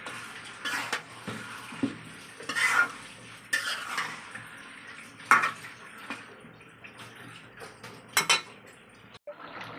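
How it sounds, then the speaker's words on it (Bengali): Spiced beef tripe being stirred in a pot, with a spoon scraping and clinking against the metal in irregular strokes over a soft sizzle, close by and moderately loud, with no talking. "একটু নাড়াচাড়া দিয়ে দিতেছি যাতে মশলাটা ভালো করে মিশানি হয়।"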